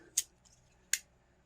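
The small scissors of a multi tool snipping twice, two crisp, sharp cuts close by, spaced under a second apart in otherwise quiet surroundings.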